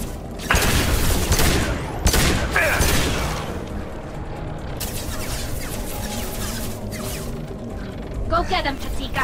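Heavy gunfire in a Mass Effect 2 firefight against geth, with sharp loud blasts early on and then sustained shooting and mechanical clatter, plus voices over the combat.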